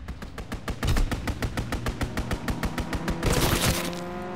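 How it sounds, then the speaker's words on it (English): Rapid gunfire from an enemy aircraft's strafing run in Call of Duty WWII, a loud, close stream of evenly spaced shots swelling into a dense burst near the end. "Enemy strafing run inbound."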